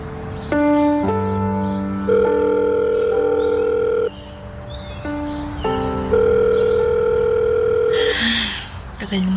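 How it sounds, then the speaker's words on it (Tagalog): A telephone rings unanswered during a call, giving repeated steady electronic tone bursts separated by short gaps, clear and close, with a voice briefly heard near the end. "Kanina ka pa ba dyan sa telepono, ha? Hindi pa ba sumasagot ang papa mo?"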